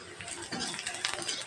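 A spoon stirs ground turmeric, chili and cumin powder in a pan for a bottle gourd dish, with short scraping strokes close up and a faint sizzle underneath.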